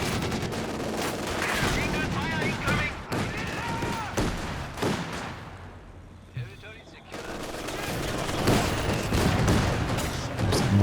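Mortar fire and other weapons in a real-time strategy game match, a dense run of loud repeated blasts and gunfire bursts with a short lull midway, under continuous talk.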